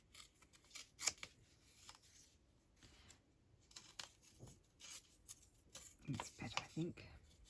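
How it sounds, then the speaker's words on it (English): Gluebook pages being torn by hand while crafting tags and pockets: short, crisp ripping and crinkling bursts at close range, irregular and quiet, with a soft voice talking at times. "Just tear a little bit more off."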